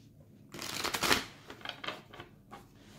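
Oracle cards are shuffled for a tarot reading, a close, quiet riffle of card stock in a few short bursts, with no talk over it.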